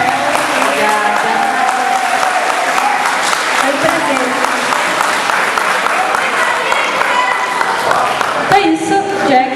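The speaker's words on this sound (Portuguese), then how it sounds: "Pedir pro pessoal uma salva de palmas" Audience applause at an anime convention panel, Anime Fan 2013, fills the whole stretch as sustained, dense crowd clapping, with a voice speaking over it and a brief dip near the end.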